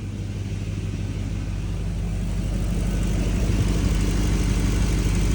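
A car engine idles steadily at close range during a check for overheating, a melted coolant reservoir cap and radiator bubbles, giving a continuous low rumble with no talk over it.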